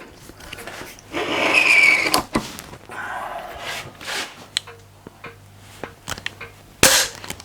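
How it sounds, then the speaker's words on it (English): A Harrington GAT air rifle is cocked and dry-fired without a pellet, giving sharp snapping clicks and a loud spring snap, mixed with mechanical scraping, and a voice speaks excitedly between the sounds. "when I fire it, the barrel should shoot out with the sleeve"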